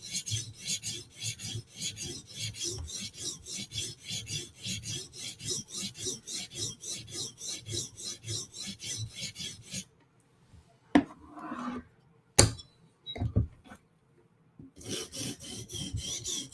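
A knife edge is sharpened with rapid, rhythmic rasping strokes, steady and close for about ten seconds, then a pause broken by a few scrapes and clicks before the quick strokes resume.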